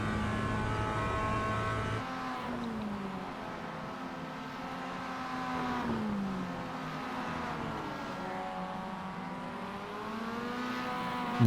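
A race car drives a lap in a sim-racing league championship, its engine droning steadily and shifting pitch through gear changes and corners, loud and continuous with no talk.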